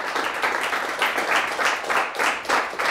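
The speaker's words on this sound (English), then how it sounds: "Nice round of applause for both teams" Applause from the audience at a school quiz competition between Mt Pleasant Sacred Heart and North Central Academy, a steady wash of many hands clapping in pulsing swells that fills the whole moment.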